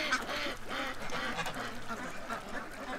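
A group of ducks gives repeated quacks close by, a continuous clamor of overlapping calls with no one talking.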